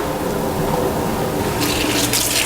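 Water from a kitchen tap rushes steadily into a sink, filling it with cold water for cooling blanched okra; the loud, even splashing brightens toward the end, with no voices.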